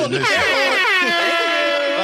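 Loud, layered air horn blasts blaring continuously, with overlapping wavering tones that sound like a comic sound effect, very close and dominating.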